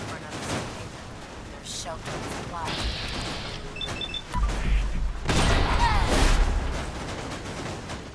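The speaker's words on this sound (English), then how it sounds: "And we get away from that explosion." In Fallout 4 with the Sim Settlements 2 mod, a large explosion booms and rumbles amid crackling gunfire-like bursts and mechanical game noise, loud and layered.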